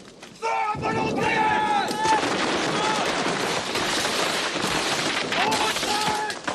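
Volley of soldiers' rifle gunfire in a 1987 French World War I film battle, a dense, continuous crackle of shots under shouted commands and voices, loud and sustained after a brief quieter opening.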